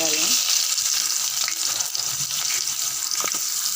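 Sliced onions frying in a pan of oil with mustard seeds, urad dal, cinnamon and cloves give a loud, steady hiss and sizzle throughout, with faint stirring scrapes and no voice.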